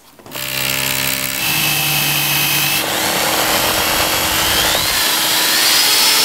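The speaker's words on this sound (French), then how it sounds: "Maintenant, tu peux percer les trous de fixation." Power drill boring fixing holes into a wall for a sliding door rail, a close, loud, steady whine that starts abruptly and holds for several seconds, with no talking.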